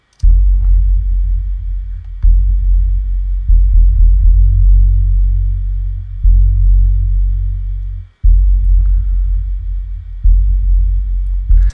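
Deep synth sub bass rumble from an Alchemy synth plays alone, loud sustained low notes in repeated phrases separated by brief gaps and one near-silent break.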